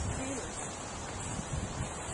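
Gentle wind rushes steadily outdoors with faint rustling, a low continuous hiss and no distinct events.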